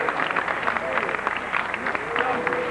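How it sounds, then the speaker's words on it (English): Arena crowd applauds two boxers after a middleweight bout between Don Lee and Tony Sibson, a steady wash of distant clapping and crowd noise under close ringside commentary. "Don Lee now applauding the effort of Tony Sibson."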